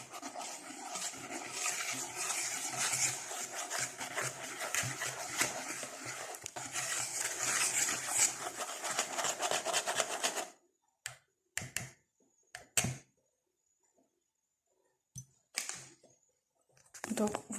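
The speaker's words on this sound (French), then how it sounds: "je vais les mélanger un peu ensemble." 160 g of flour and 7 g of baking powder are stirred together in a bowl for gingerbread, giving about ten seconds of busy, close scraping and clicking that stops abruptly, followed by a few scattered faint knocks.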